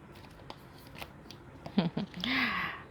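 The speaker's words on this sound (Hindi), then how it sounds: "पहले मैं कार्ड निकाल लेती हूँ।" Tarot cards are drawn from a deck, giving a few soft, close card slides and flicks spread across a quiet room, followed by a short swishing rustle.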